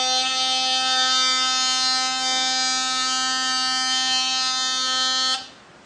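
A single sustained bent draw note on a harmonica, steady and loud with rich upper harmonics, held for about five seconds while the draw reed is covered by a finger, then cutting off abruptly.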